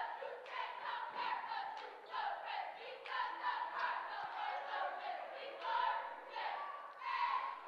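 Spectators at a high school basketball game between Jonesboro and Forest Park shout a rhythmic cheer chant in unison, a steady loud crowd roar rising and falling in repeated phrases.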